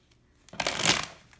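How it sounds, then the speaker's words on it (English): Tarot deck being shuffled by hand, a brief burst of riffling card flutter that swells for about half a second, then fades, fairly close and with no talk. "we're about to shuffle the deck"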